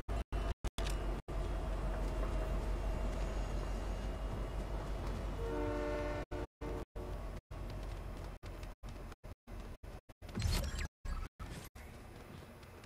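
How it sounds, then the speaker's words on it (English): A train passes in Fortnite gameplay, a loud rumbling rail roll with a sustained horn blast midway, repeatedly cut by brief dropouts, with no talk over it. "There's the train again."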